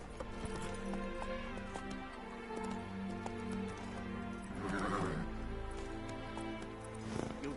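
Roach the horse in The Witcher 3 moves at pace, her hooves beating a steady rhythm with a brief whinny near the end, set against continuous game music and ambient tones.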